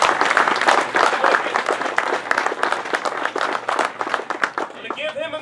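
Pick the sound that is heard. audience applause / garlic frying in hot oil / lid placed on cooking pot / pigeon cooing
audience applause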